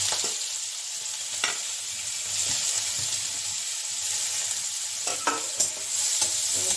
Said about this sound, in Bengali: কুচনো পেঁয়াজটাকে একটু ভেজে নিচ্ছি।